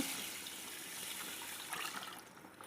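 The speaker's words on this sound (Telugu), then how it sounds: "అదే గ్లాస్తో నాలుగు గ్లాసులు నీళ్లు కొలిచి పెట్టానండి నేను అది పోసేసుకుంటున్నాను" Water pours from a glass into a cooking pot in a soft, steady stream for a couple of seconds, quiet and close.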